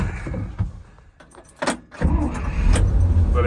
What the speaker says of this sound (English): But it just fires right up.